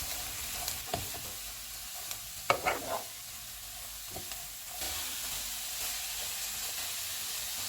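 Shredded cabbage and capsicum fry in a pan over a medium flame, giving a soft, even hiss and sizzle with a few brief clatters of stirring midway, close up and without speech.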